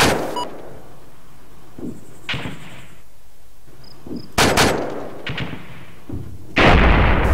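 Explosions and gunfire in a video game battle, with an aircraft blowing up: sharp blasts with scattered shots between them, ending in a loud close burst.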